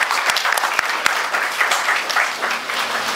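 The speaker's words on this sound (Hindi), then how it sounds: "इनके लिए एक बार जोरदार तालियों से इनका स्वागत करें" A college seminar audience gives a short burst of hearty applause to welcome a speaker on mental health day, dense and continuous.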